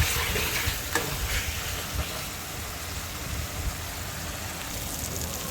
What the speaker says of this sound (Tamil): இப்போ தக்காளி நல்லா வதங்கிட்டு இருக்கப்போ